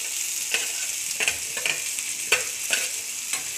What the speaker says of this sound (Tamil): இதை எல்லாத்தையும் போட்டு வதக்கிக்கலாம்.